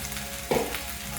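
Chopped tomato sizzling and frying with seasoned ground meat in a pan, a steady close hiss with a brief louder burst of stirring partway through.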